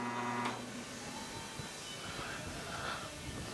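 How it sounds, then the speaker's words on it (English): Engine balancing machine spinning steadily at 600 RPM, a constant mechanical hum and whir of moderate level that stays even throughout with no voices. "I've got my machine already set up here at 600 RPM"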